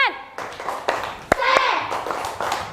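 Children in a classroom do a short rhythmic clapping chant, with a few sharp claps and a single loud slap in among excited young voices chanting and speaking close by.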